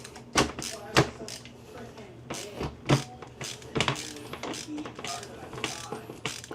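A ratchet screwdriver turns screws on the handle of a GE microwave, model JVM3160DF2W, making close, quiet bursts of clicking ratchet strokes with pauses between them, while someone talks over it.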